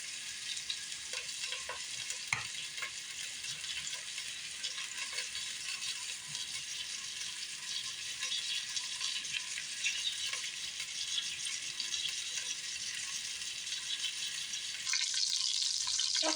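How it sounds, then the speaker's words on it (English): A pork shoulder butt roast sears in a hot pan with a steady, close crackling sizzle that runs without a break, stirred or shifted now and then, with a brief louder rush near the end and no voices. "Okay, guys, I browned one side."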